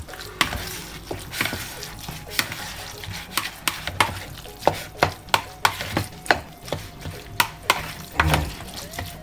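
Lumpiang shanghai filling is worked in a pan, with a long run of sharp, fairly regular clacks of a utensil striking the pan and a soft sizzle underneath, all close up and without talk.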